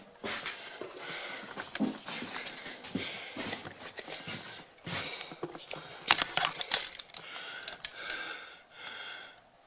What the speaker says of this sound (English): Let me get my tape measure.